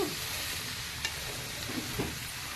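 Ridge gourd pieces being stirred up and down in a pan of hot tempering oil, a soft continuous sizzle with a few light spoon scrapes, close and steady with no talking.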